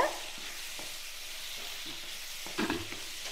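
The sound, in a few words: sautéing onions and tomatoes in a kadai for chutney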